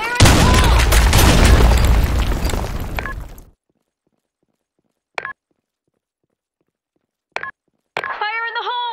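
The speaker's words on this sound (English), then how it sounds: "Fire in the hole! Grenade!" A video game grenade blows up in a single loud, dense explosion with a rumbling tail that fades over a few seconds, followed by silence and a few short electronic blips.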